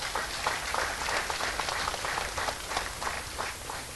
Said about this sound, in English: another round of applause for the director